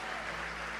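Brief burst of steady applause from a church congregation honoring its pastors, a dense even wash of clapping with no voices standing out.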